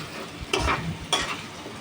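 Spice paste and onion fry in oil for a chicken curry, a short clip of steady sizzling punctuated by two quick spoon scrapes against the pan, with no speech.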